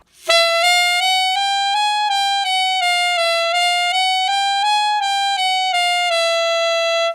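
A saxophone plays a clear run of short, high notes on the palm keys, stepping up and down between neighbouring pitches, then settles on one sustained tone.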